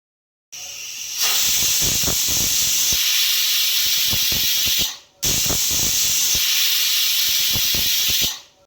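Steam hisses loudly and steadily from a pressure cooker holding chicken pulao, with a close, continuous roar broken by a brief dip near the middle and faint knocks underneath.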